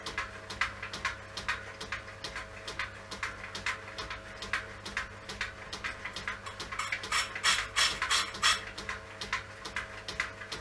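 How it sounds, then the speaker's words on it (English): A milling machine cutter skims a rusty, flaky chrome brake drum, giving a rapid, regular ticking of cutter teeth over a steady machine hum, close and moderately loud without talk. "I'm taking the cutter down, putting the feed on by moving the table that way."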